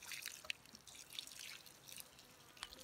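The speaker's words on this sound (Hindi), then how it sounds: "इसलिए इसमें मेरे को पानी डालना पड़ रहा है अभी" Water poured around an apple tree in an orchard, heard as faint, scattered drips and light splashes in a quiet outdoor setting.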